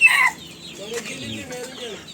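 Hens at their laying nests cluck in low, soft murmurs after a brief louder squawk at the start, close by with a faint background.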